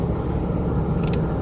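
A car engine in third gear holds a steady, loud rumble with no clear rise, running alone with no voices over it.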